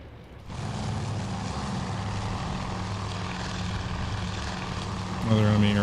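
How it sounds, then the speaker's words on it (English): WWII carrier plane engines in Task Force Admiral, a steady propeller drone that holds for several seconds and then swells louder, with a tonal whine near the end. "Another enemy aircraft going down"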